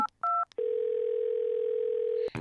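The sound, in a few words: telephone dial tone while calling the police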